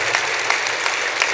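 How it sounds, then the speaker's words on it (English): An audience in a keynote hall claps steadily for service members, a dense, even patter of many hands filling the short moment with no voices over it. "Give our service members a round of applause"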